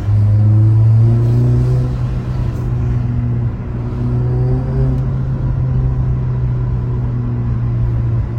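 A car engine revving with a deep, metallic exhaust note, loud and close, holding a sustained droning rumble that eases slightly then carries on steadily without pause.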